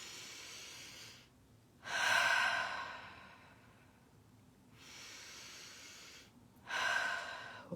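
Someone breathes slowly and deeply, close to the microphone: airy inhales and exhales swell and fade in a calm cycle of about four long breaths with short silent gaps.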